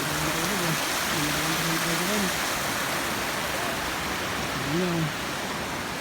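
Floodwater from Typhoon Ulysses in Tuy, Batangas, rushing past in a loud, steady roar, with a voice briefly audible over the flow.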